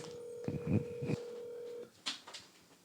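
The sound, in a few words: telephone dialing tones calling a guest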